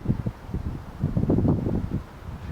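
Wind buffeting a camera microphone outdoors, low rumbling gusts that swell and fade unevenly over a few seconds.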